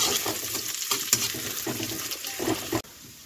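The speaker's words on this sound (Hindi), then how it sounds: "ये देखिए जुल्ली इधर फ्राई कर रही है। तो दोस्तों प्याज वगैरह डाल दिए हैं" Onions frying in a pan at the start of a home-cooked mushroom curry, a steady close sizzle with irregular crackles and stirring scrapes, broken by a few louder clatters before cutting off near the end.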